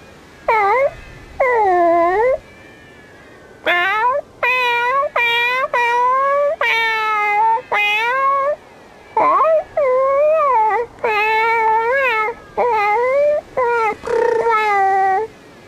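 Cats in Bravely Second, a 3DS role-playing game, meow and wail again and again in clear, drawn-out, rising and falling cries, loud and close, with short gaps between calls and no speech.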